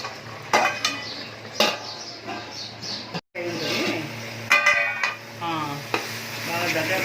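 A pot of tomato rice simmers with a soft sizzle while metal clanks and scrapes sound at intervals, including the clatter of a lid set onto the pot.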